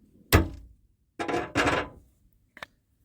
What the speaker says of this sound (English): I'm going to try to pop through with the chisel at an angle, kind of see what that does.